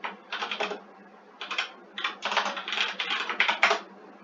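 Bursts of typing on a computer keyboard as a chat message is entered in Webex: several quick clusters of keystrokes separated by short pauses, close and clear with no talking.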